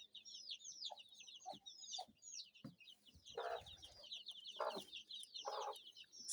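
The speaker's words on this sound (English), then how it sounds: "You can see the tough mama hen with her chicks." Kienyeji mother hen clucking softly and repeatedly among her chicks, whose high cheeping runs almost continuously over the top, with a few louder scratchy bursts nearby on a Kenyan farm.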